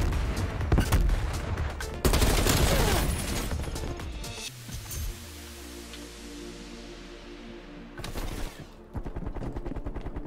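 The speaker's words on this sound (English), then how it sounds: "Enemy sniper shooting." Rapid bursts of gunfire from enemy snipers in the Call of Duty Cold War multiplayer game on Xbox Series X: loud, dense volleys, then a pause with a ringing tail, then more shots, no talk over them.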